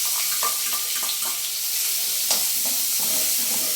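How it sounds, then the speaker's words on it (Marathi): Finely chopped onion, green chili and garlic frying in hot oil, a steady bright sizzle with occasional spatula clicks and stirring scrapes, close and continuous. "आता आपण त्याच्यामध्ये आपण जो बारीक कापलेला कांदा आहे, मिरची आणि लसूण आहे, त्याला आपण फ्राय करून घेऊ."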